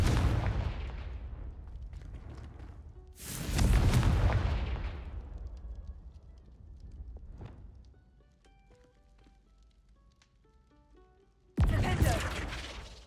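A Confringo fire curse goes off in Hogwarts Legacy: two loud blasting bursts with long rumbling decays, then a third explosion that starts abruptly near the end, with scattered game effects in between.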